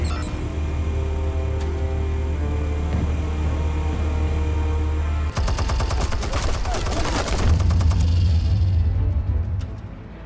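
Gunfire from the video game Batman: The Telltale Series, a dense burst of rapid shots that erupts midway over a steady low rumble and continues loudly for several seconds.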